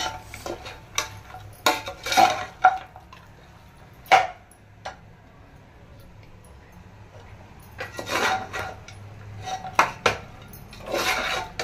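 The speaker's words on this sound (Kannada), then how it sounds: "ಇದು 3 ಹಾಕಿ ಚೆನ್ನಾಗಿ ಫ್ರೈ ಮಾಡ್ಕೋಬೇಕು. ಚೆನ್ನಾಗಿ ಮಿಕ್ಸ್ ಕೊಡಬೇಕು." A spoon stirs and scrapes garam masala, mutton masala and chili powder around a pan, making intermittent clinks and scrapes in uneven bursts over a low background, with no voices.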